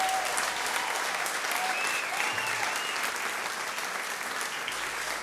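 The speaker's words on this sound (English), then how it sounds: "A slow clap? A pleasant applause? Or a standing ovation?" Steady, dense applause from an audience at a theatre performance of a musical, a sustained standing ovation of many hands clapping evenly throughout, loud and continuous with no talk over it.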